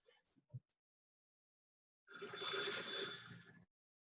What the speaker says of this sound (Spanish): sonó el teléfono un poquito fuerte